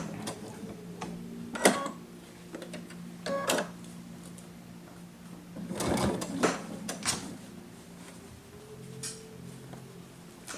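A sewing machine stitches slowly over a thick, layered seam, going back over it to reinforce it: bursts of close mechanical whirring and clatter separated by pauses, with a louder, denser run midway.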